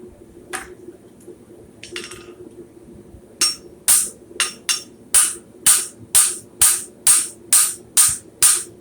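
Hammer blows on a horseshoe egg bar worked with a wider fuller: a couple of scattered taps, then about a dozen sharp, ringing metallic strikes in a steady, quickening rhythm, close and loud, with no speech.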